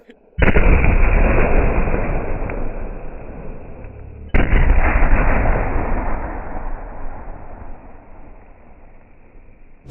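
Two large Diwali firecracker shots from Sivakasi go off one after another, each a loud booming burst followed by a long crackling rumble that slowly fades.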